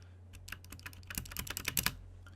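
Typing on a UtechSmart Mercury LED backlit wireless keyboard, a quick run of close clicky keystrokes that speeds into a dense flurry, over a steady low hum.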